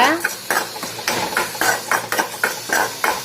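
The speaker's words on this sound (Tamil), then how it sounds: "அரிசி கடலப்பருப்பு கொத்தமல்லி மிளகு ஜீரகம் அதை வந்து இதில் போட்டுக்கோங்க நல்லா வறுத்துக்கோங்க" Rice, chana dal, coriander seeds, pepper and cumin dry-roast in a pan for a Tamil kuzhambu, a spoon scraping and knocking in a quick, steady rhythm of close metallic strokes.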